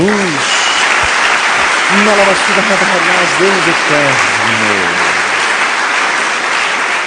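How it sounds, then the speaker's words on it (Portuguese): Church congregation giving a round of applause during a sermon, a loud continuous roar of clapping that runs the full length while a voice speaks over the first half. "Dá uma salva de palmas a Jesus."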